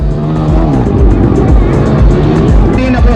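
Motorbikes racing at an MRF Supercross event in Baroda, with loud engines whining and revving as the bikes pass close by. The roar is continuous and rises and falls with the throttle over crowd noise.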